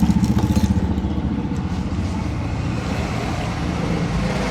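A motorcycle revs with a pulsing engine and pulls away on the road. The steady engine roar stays loud and close throughout, with faint traffic-like rumble and no talk.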